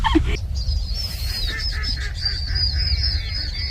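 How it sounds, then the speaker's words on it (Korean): Birds call repeatedly in high, chirping bursts over a steady low rumble, fairly clear and continuous, with no talking. "새소리 정말 예쁘다"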